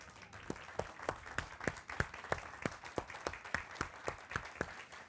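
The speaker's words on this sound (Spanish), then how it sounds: "Un aplauso." An audience at an education congress talk claps for a professor, with sharp individual claps standing out over a softer crowd patter, fairly faint and evenly paced.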